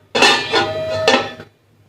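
A lid set onto a cooking pot of stems boiling in salted water, two or three quick metallic clanks and a brief ringing scrape, close and alone.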